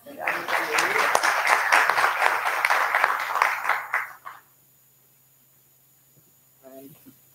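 An audience applauding at a cyber-security panel at a university, a loud, sustained burst of clapping lasting about four seconds that then cuts off, followed by near silence and a brief spoken voice.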